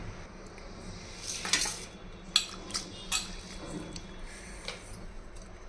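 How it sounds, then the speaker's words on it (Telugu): Dried fish being washed in buttermilk in a bowl gives several short, bright clinks and splashy sloshes against the bowl, spaced irregularly over a quiet background. "ఈ నీళ్ళన్నీ తీసేస్తానండి తీసేసి మళ్ళీ మజ్జిగ పోసి కడిగేస్తాను"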